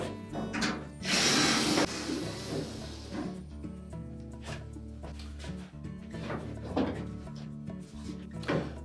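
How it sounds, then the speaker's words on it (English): Two screws are removed from the support bracket atop an LG dryer cabinet, with close metallic clicks, bursts of a small driver whirring and scraping against sheet metal. "we'll remove the 2 screws that secure that support bracket to the top of the cabinet"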